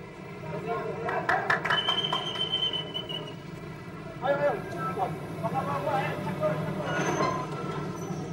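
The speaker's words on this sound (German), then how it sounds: "Ein Eilzug ist abgefertigt und rollt an und dann passiert etwas." An Indonesian state railway express train starts to roll out of a station, wheels squealing and cars clattering at moderate distance, with metallic screeches and rumbling under ambient noise.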